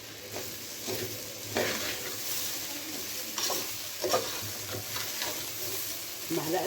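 A big spoonful of salt is stirred into food frying in a pan, with steady sizzling broken by scraping stir strokes at an even pace, up close and without talk.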